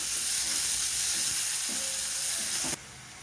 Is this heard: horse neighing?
no